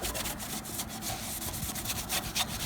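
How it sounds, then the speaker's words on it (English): Grime is scrubbed off a Honda part with an abrasive pad to rough up the surface for paint, a quick, continuous rasping rub in short back-and-forth strokes, close and steady. "we try to get that grime and try to get it scratched up so that it'll come out good"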